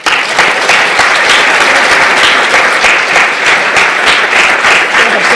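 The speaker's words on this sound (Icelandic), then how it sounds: "Gefum henni gott klapp." Loud, sustained applause from a large audience at a gathering in Iceland, dense and even throughout with no talking over it.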